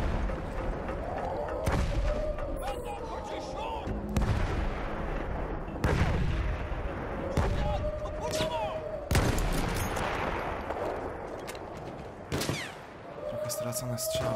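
Battlefield 1 gunfire crackles in dense bursts and volleys with booming impacts throughout, loud and continuous with brief lulls.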